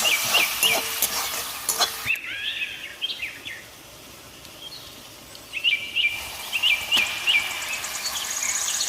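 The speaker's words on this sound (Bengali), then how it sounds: "একটু হলুদের গুঁড়া, ধনিয়া গুঁড়া, মরিচের গুঁড়া, লবণ দিয়ে মশলাটা ভালো করে কষিয়ে নিব।" Turmeric, coriander and chili powder with salt fried into a spice paste in a pan for a village-style beef and cabbage curry, giving a steady sizzle and stirring scrapes while birds chirp in the background.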